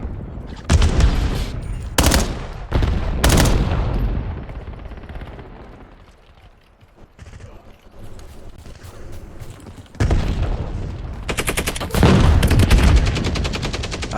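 Gunfire from a weapon in the video game Call of Duty BO7 comes in loud, rapid bursts of close shots, fading to a quieter lull before heavy firing resumes.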